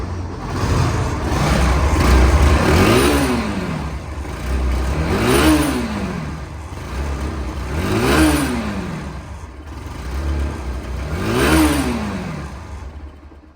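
A second-hand Bajaj Pulsar NS 160cc motorcycle with 15,013 km, its engine idling then revved in four or five repeated throttle blips, each rising and falling in pitch, loud and close with no talking.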